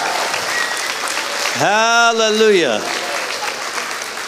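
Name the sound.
congregation clapping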